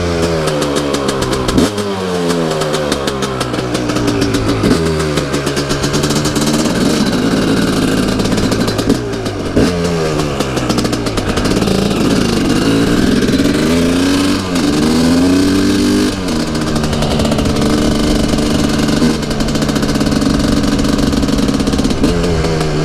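Dirt bike engine, a KTM 300 two-stroke or Yamaha YZ450FX, revving continuously while riding through woods, pitch rising and falling with repeated throttle blips and gear changes, loud and close throughout.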